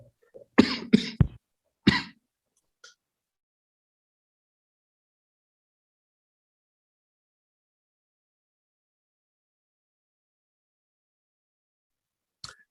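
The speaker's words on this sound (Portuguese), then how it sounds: "Até tive uma crise de tosse" A short burst of several harsh coughs close by, then a brief throat sound, followed by long silence and one faint cough at the end.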